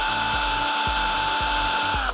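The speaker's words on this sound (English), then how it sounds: "you wanna drill a hole with that 3/16 bit" A power drill fitted with a 3/16 bit bores a hole through the capped end of an arrow capsule. The motor whines steadily and loudly for about two seconds, with a rhythmic pulsing as the bit bites, then cuts off sharply.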